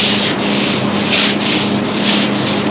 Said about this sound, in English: we may come back with this smaller block with the 80 grit and just do a little detail